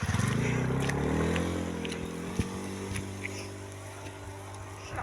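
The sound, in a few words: passing motorcycle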